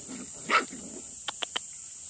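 Stray dog barking outdoors on a hillside, one sharp loud bark followed by three shorter, quicker yaps in a row, heard alone against a steady high background hiss.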